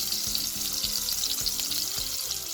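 Chopped onions and cloves fry in a pot with a steady, bright sizzle and crackle, punctuated by several dull knocks of stirring against the pot; close and continuous with no talk.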